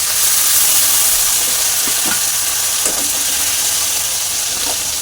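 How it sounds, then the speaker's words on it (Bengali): Rui fish frying in oil on low heat, a steady dense sizzle and hiss running throughout at close range, with faint soft clinks now and then. "তো এটা এবার তেলে দিব। এটা অল্প আঁচে ভাজতে হবে।"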